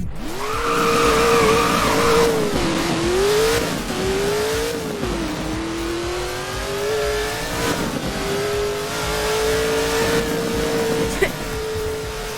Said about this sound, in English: this car has a supercharged V8 in it, and the sound just explains itself